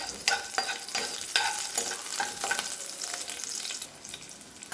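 Green chili pieces sautéing on low heat with bay leaf and cinnamon in a pan, a close crackling sizzle punctuated by repeated spatula scrapes and clicks, fairly steady throughout.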